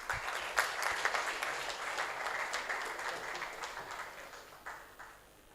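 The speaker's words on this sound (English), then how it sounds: "Huge round of applause, please." Steady applause from a seated audience at a valedictory ceremony honouring senior advocates, a dense crackle of many hands clapping continuously for several seconds, then thinning out toward the end.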